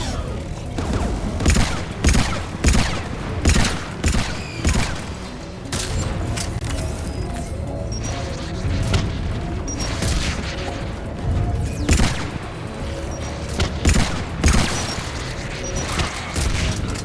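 Turret gunfire in Mass Effect 3 Legendary Edition on Xbox Series X: dense, loud volleys of rapid shots and impacts, repeated in bursts over a constant background of combat noise.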